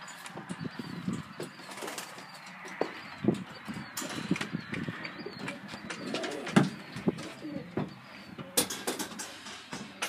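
Pigeons, Modenas and Homers, coo softly in low murmurs amid rustling and wing flaps inside a coop, an enclosed, busy bird space without speech.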